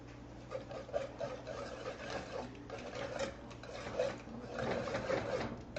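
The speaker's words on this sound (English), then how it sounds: "we're going to whisk it together until all the pectin is dissolved" A whisk scraping and stirring powdered pectin into a strawberry jam mixture in a pot on an unheated stove, a continuous close rhythmic rubbing and clinking without speech.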